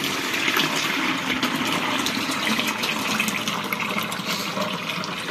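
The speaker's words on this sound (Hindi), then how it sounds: "तो मैं अब इसका पानी निकाल रही हूँ" Water drains out of a Haier automatic washing machine into a tub, a steady, close rushing gush that runs unbroken throughout with no talking.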